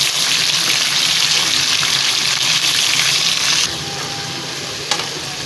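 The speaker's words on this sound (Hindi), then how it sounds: "इसमें अब चिकन शामिल करते हैं। चिकन मैंने बोनलेस नहीं लिया, मैंने हड्डी वाला लिया है।" Small bone-in chicken pieces frying in a pan for creamy macaroni, a loud, steady close-up sizzle that drops slightly in intensity partway through, with a faint clink near the end and no talking.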